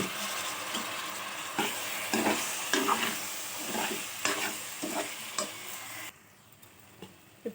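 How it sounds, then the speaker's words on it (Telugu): Washed toor dal is tipped into a hot pan for drumstick dal, giving bursts of sizzling and scraping stirs that come and go, then fade to quiet near the end. "ఇప్పుడు దీంట్లో కడిగి పెట్టిన కందిపప్పు వేస్తున్నాను"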